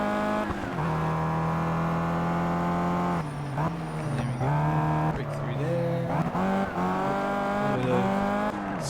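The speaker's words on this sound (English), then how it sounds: "Squealing up the tires." A race car in the racing video game Project CARS, with its engine revving in steady, rising harmonic tones and tires squealing beneath. The sound is loud and continuous, with brief gear-change dips.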